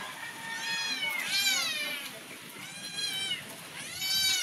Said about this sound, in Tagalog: Nagsige nagmiyaw-miyaw ang mga miming nga gagmay